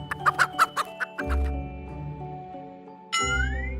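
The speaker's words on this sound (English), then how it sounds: "H is for hen." Hen giving a quick series of six or seven clucks close up, then a lower drawn-out tone and a rising squawk-like note near the end.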